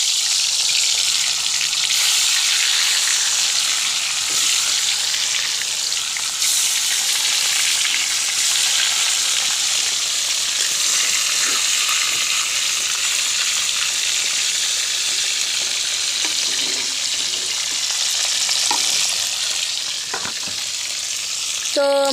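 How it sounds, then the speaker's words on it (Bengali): Pieces of rui fish fry in a pan with a loud, dense, steady sizzle that barely varies, with faint clinks near the end and nobody speaking. "তো মাছগুলো লাল লাল হয়ে গেল ভাজা।"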